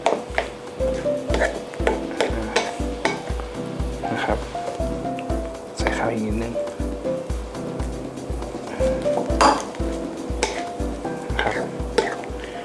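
Seasoned sushi rice for maki being stirred and broken up in a bowl, a steady rhythmic series of soft thumps and scrapes repeating about twice per second throughout, with faint background noise.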